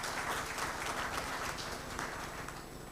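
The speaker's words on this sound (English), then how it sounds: "A big round of applause." An audience at a conference on road and highway financing claps in a steady round of applause, sustained and even, easing slightly as it goes on.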